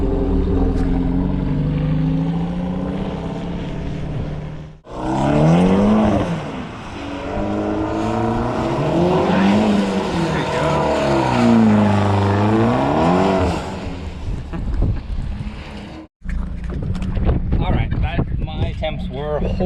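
A stock-horsepower Mitsubishi EVO X on 265 tires attempting an e-brake drift: the engine drones loudly and revs up and down in rising and falling sweeps under wind noise, with people talking over it.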